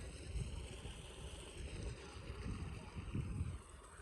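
Irrigation water pump motor running in a wheat field, a steady low rumbling drone with wind buffeting the microphone, continuous and fairly faint.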